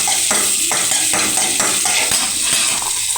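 Mustard seeds splutter and crackle in hot oil in a kitchen pan for tempering a tomato curry, a dense, close sizzle with rhythmic bursts of popping and stirring.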